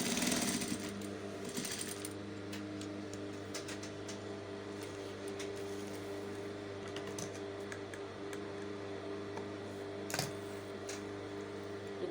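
Sewing machine top stitching a zipper onto garment fabric, a steady close mechanical whir with fine rapid needle ticking, running continuously and alone at moderate level.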